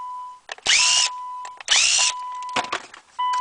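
A power drill whirs in two short bursts while removing the screws of a transponder box on a 2014 Subaru Outback, close and loud, with clicks and a steady electronic beep tone in between.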